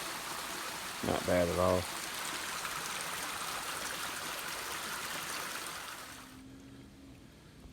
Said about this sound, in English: This is a different creek. It's running a little bit faster